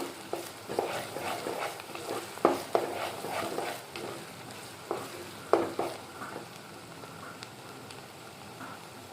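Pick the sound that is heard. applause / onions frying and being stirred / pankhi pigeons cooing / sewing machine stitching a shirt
onions frying and being stirred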